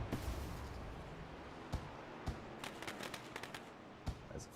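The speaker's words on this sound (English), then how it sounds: "As the fireworks go off" Fireworks go off after a race at Bristol in the iRacing sim racing game. A handful of sharp, fairly faint pops and crackles cut through a constant noisy roar.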